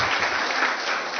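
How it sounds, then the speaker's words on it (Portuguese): A group breaks into a dense, steady round of applause welcoming a teacher in a class, a continuous wash of clapping heard alone and fairly close. "Uma salva de palmas para o professor Sidney."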